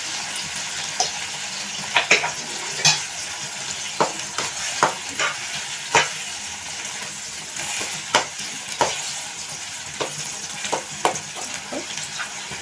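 Chili powder stirred and fried in a pan for a prawn and cauliflower gravy, a steady close sizzle broken by regular scraping knocks of the spoon against the pan, with no voices.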